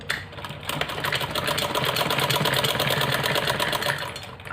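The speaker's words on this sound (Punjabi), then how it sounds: "ਆ ਦੇਖੋ ਮੈਂ ਸਲਾਈ ਮਾਰਦੀ ਆ ਇਸ ਕਾਰਨਰ ਤੱਕ" A sewing machine stitches two fabric strips together corner to corner, a loud, close, rapid mechanical whir with fast steady needle ticking that holds throughout.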